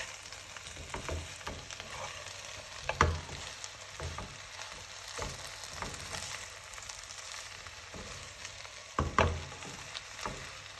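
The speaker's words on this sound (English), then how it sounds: "Mix again and let everything cook together for about another 5 minutes" An eggplant moju mixture cooks and fries in a pan, giving a continuous close sizzle with occasional stirring clatters at irregular moments, without any voices.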